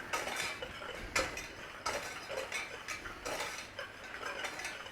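Cocoa powder, cornstarch and sugar being stirred in a pot for a Black Forest trifle, with a utensil clinking and scraping the metal in an uneven rhythm of light taps and scrapes, close and moderately quiet, with no talking.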